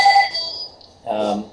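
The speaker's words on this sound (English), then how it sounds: "Apologize for the phone in the background." A telephone rings in the background of a conversation about reef restoration, giving two short electronic trills separated by a brief pause, faint and somewhat distant.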